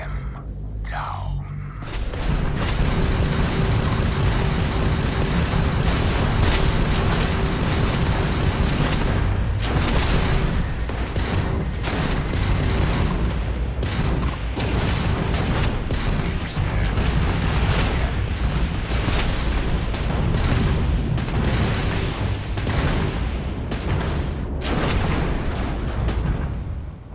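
Spaceship combat in Starfield, with a dense, continuous barrage of weapons fire and booming explosions that thuds and crackles steadily for nearly the whole stretch after a brief quiet start.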